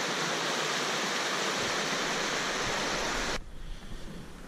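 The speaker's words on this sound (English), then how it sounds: "Let's see the runoff over here at the creek." Steady broadband rush of snowmelt runoff pouring along a creek, close and continuous, then dropping abruptly to a quieter flow near the end.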